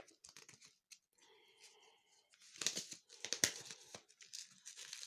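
A cut plastic bottle used as an improvised seedling pot for pepper seeds is torn apart up close, with crinkly plastic rips and crackles coming in uneven bursts, loudest in the second half, with no talking.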